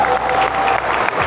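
Dense wedding applause fills the hall at a celebration in Etchmiadzin, many hands clapping steadily and loudly throughout a brief stretch with no talk over it.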